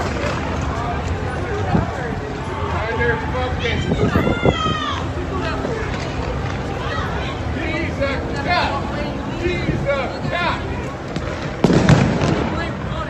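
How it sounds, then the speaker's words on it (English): Flashbang grenades go off at a street protest with sharp bursts near the start and a louder blast toward the end, all under a constant babble of crowd voices and shouting. "you could hear the flashbangs because they're pushing the protesters in this direction"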